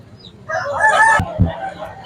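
A country rooster crows loudly nearby at a poultry market in one drawn-out call, followed by a couple of sharp knocks and low background murmur.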